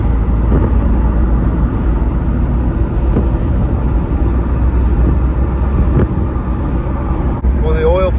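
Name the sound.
Jeep Cherokee XJ driving on a test ride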